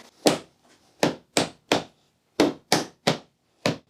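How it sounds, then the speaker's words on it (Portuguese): A hammer strikes a wooden dowel in eight sharp, separate knocks, close and loud, spaced irregularly with silence between blows. "Vamos tentar com um martelo."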